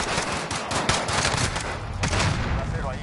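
Rapid bursts of gunfire crackle in Call of Duty Warzone, loud overlapping shots and automatic volleys in quick succession, with players' voices faintly mixed in.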